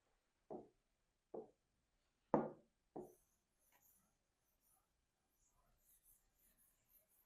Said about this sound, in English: I'm going to go ahead and erase all this.